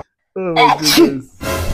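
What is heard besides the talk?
person sneezing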